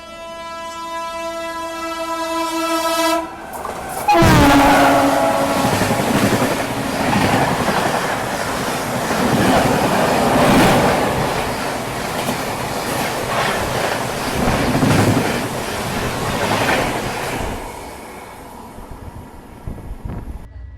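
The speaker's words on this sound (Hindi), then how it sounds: "लेकिन हमारी जो है वो और स्लो ट्रेन है, बिल्कुल स्लो ट्रेन है, पैसेंजर ट्रेन है ऑलमोस्ट ये" Katni Bhusaval express, a slow passenger train, rumbles and clatters loudly on the rails after a steady horn-like tone at the start, with a continuous rolling roar that fades near the end.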